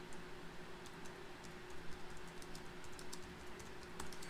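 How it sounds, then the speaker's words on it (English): Computer keyboard typing, a quick run of light, irregular key clicks, close but faint over a steady low hum, with no voice. "You can just type it."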